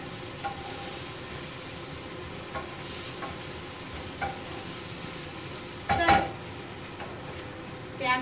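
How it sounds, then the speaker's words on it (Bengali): Onion frying in a pan for a Bengali mutton curry, a continuous soft sizzle with occasional stirring scrapes and a louder clatter near the end. "পেঁয়াজটা ভাজা হোক, তোমাদের দেখাই পেঁয়াজটা ভাজা হচ্ছে।"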